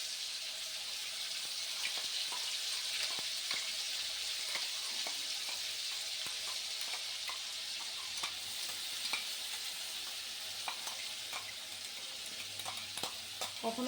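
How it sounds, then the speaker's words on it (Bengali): Garlic, onion and chili paste frying in hot oil for a fish curry, a steady loud sizzle throughout with scattered crackles and stirring scrapes, no voices. "এখানে রসুন আর পেঁয়াজ আর লঙ্কা বাটাটা দিয়ে দিচ্ছি"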